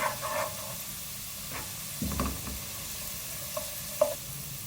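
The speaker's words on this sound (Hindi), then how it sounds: "1 टीस्पून ज़ीरा डाल रही हूँ, फ्राई करेंगे इसको।" Chopped onion and cumin seeds fry in a pan for a dhaba-style dal tadka, a soft, quiet sizzle broken by a few short scraping stirs and light clinks.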